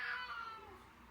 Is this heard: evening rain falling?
no